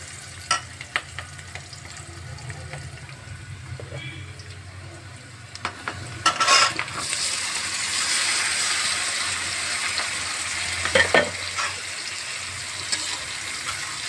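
Eggplant pieces fry and get stirred in a pan, a steady sizzle with scattered clicks of a spoon, swelling into a louder, hissier burst of frying midway and continuing close and busy.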